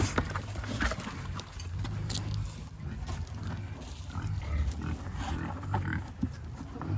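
Pigs on a farm in Jamaica, with grunts and squeals scattered over a noisy outdoor background, fairly close and irregular, alongside rustling and movement.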